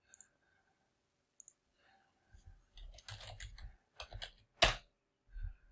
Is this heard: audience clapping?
no